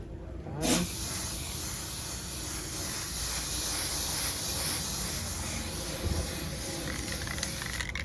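A spray can lays primer onto a Transformers Seeker figure, a sharp click followed by a steady close hiss of aerosol spraying that continues in long passes with slight variations.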